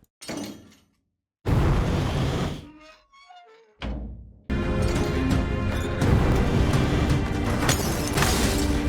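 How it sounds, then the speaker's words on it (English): Video game effect: a heavy fireplace door thuds open with a rumbling burst, a brief squeaky pause, then a roaring whoosh of fire that blasts on loudly and steadily. "So this blank container has the door opening and the fire coming out."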